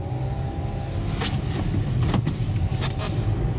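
A car accelerates on snow on Vredestein Quatrac Pro all-season tyres, its engine a steady low drone heard from inside the cabin, with a few brief higher scrapes and rustles passing over it.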